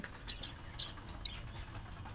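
Soft calls from nesting pigeons in a loft, a few brief coos and rustles against a low steady background hum.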